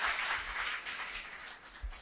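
An audience applauds a political speech by Waman Meshram, a steady wash of many hands clapping throughout, moderately distant and without anyone speaking over it.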